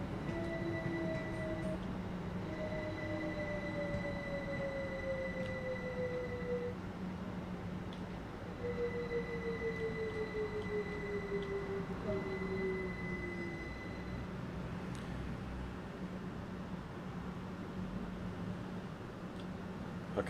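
A train in a video game rolls steadily through a train wash at 3 miles per hour with a low rumble while faint tonal whines slide downward twice, with quiet background noise throughout.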